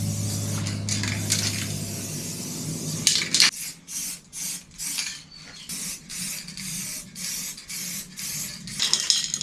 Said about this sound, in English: let's get on and spray it, shall we?